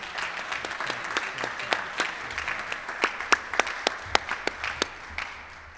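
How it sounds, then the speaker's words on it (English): Applause from an audience at a Rotary Club of Cincinnati meeting after a talk by Laura Mitchell, a moderate patter of many hands with a few sharper individual claps standing out, steady throughout at middling distance. "A big round of applause."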